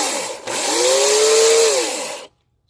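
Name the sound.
WORX 18 inch 15 amp electric chainsaw running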